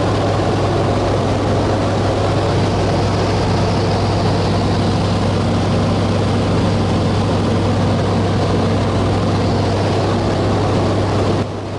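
Engine of a Fairchild 24W aircraft running at reduced power in flight, a loud, constant droning hum with a steady low tone that holds unchanged throughout before cutting off at the very end.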